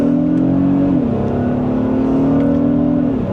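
A 2026 Honda Pilot Elite SUV in sport mode pulls hard from second gear, its engine droning loud and steady throughout with a brief dip as it shifts, heard from inside the cabin with no talk.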